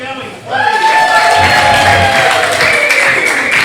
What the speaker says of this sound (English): Keep that applause going.